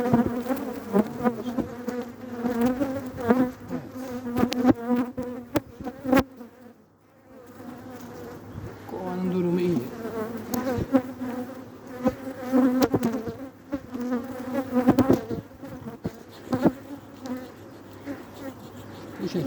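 Honeybees swarm around an open hive that has been weakened after cold weather, making a dense, continuous, loud close-up buzz that rises and falls and dips briefly partway through.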